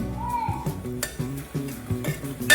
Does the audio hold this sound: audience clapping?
no